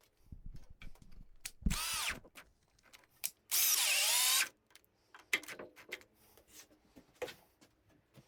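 A power drill drives screws into pilot holes in wood while building a floor desk, two whirring bursts, the second longer with a rising pitch, among clicks, taps and handling knocks of the workpiece; no one speaks.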